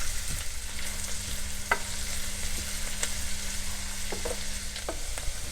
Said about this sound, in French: Une fois le beurre fondu, on ajoute les oignons. On va les faire revenir pour les attendrir.